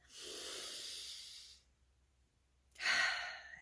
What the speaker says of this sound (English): let's breathe, take a deep breath